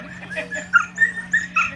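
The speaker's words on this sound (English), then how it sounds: "She's the one that squawks. She's a squawker." A rescued dog, a nursing mother, gives short high squawking yelps in a quick irregular series, fairly close and moderately loud over a faint steady hum, with no talk.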